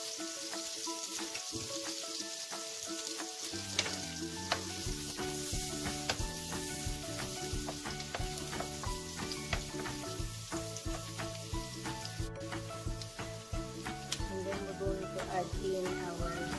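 Garlic and onion sauté in butter and oil with a steady, close sizzle and frying crackle, plus occasional stirring scrapes across the pan throughout.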